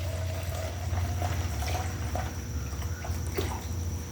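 Paint Shop clear coat paint pours from a can in a steady, thin liquid stream, a continuous soft trickle with small splashes close by.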